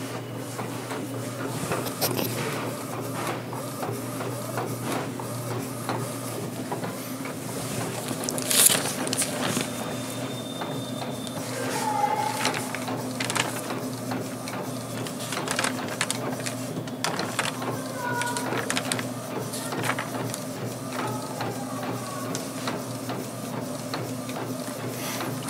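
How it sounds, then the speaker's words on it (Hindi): An Epson L805 or L1800 printer prints onto DTF PET film, a close, steady mechanical hum with rhythmic clicks, shuttling and whirring from the moving print head, running continuously. "ये देखो प्रिंटर आपका चल गया।"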